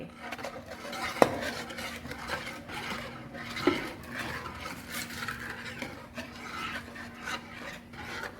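A spoon scrapes and rasps steadily around a bowl as milk is stirred into chocolate muffin batter, a continuous close rubbing with two sharp clinks against the bowl's side.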